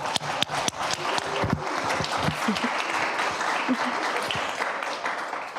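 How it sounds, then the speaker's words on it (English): Warm round of applause at a Los Alamitos school board meeting, honoring a staff member; steady, close clapping from a modest audience with a few sharper individual claps, continuing evenly to the end. "Please join me in giving Ms. K a warm round of applause."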